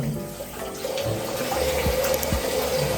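Tap water runs steadily into a bathroom sink while a face is washed, a close, continuous rushing stream with faint splashes of hands in the water, no talking.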